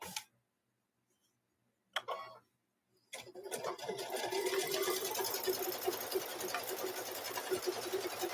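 Sewing machine stitching up the raw edges of fabric: a few short bursts, then a steady, continuous run of needle chatter close by, with no talking.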